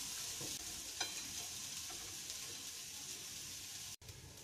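Food fries quietly in a pan, a soft steady sizzle with light stirring touches and a brief clink near the end.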